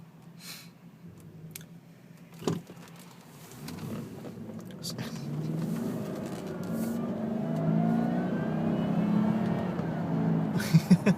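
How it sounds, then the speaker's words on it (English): A supercharged 2004 Jaguar S-Type R accelerates from inside the cabin, its engine note swelling and climbing in pitch over several seconds to a loud, strained whine. "That supercharger is interesting to listen to."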